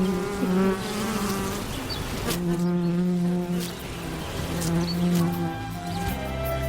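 Honey bees buzzing inside a beehive, a close, steady droning hum with layered wingbeat tones rising and falling, continuous throughout without talk.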